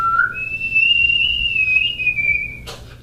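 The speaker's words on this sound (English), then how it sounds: "I can whistle" A person whistles a single sustained, clear note that slides slightly in pitch for about two seconds, close and loud against a quiet background, ending with a brief breathy burst.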